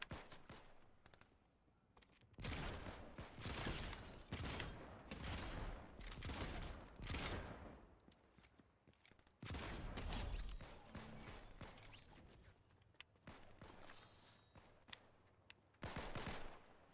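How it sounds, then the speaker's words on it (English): Gunfire in a Fortnite Solo Zero Build match: loud, repeated bursts of automatic shots separated by brief pauses, with sharp single cracks and a few quieter mechanical clicks in between. "you really want to shoot at me?"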